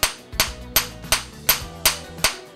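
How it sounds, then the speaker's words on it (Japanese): A hammer strikes a hard rock concretion seven times in a steady rhythm. Each close, sharp blow rings briefly, with no voices. "もうこんな風にハンマーで叩いても全然ビクともしないので、"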